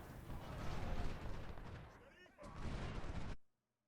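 Massed gunfire from infantry units in cover in Ultimate General: Civil War, a continuous dense rumble of distant volleys and battle noise that cuts off abruptly into silence near the end.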